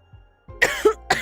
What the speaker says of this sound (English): I can't stop coughing, my bad.